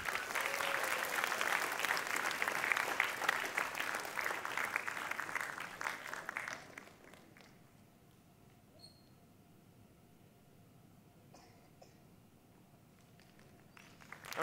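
Applause from an audience at a primary school sports awards ceremony in Bangkok, loud and steady for about six seconds, then dying away to a quiet room with a few faint scattered sounds.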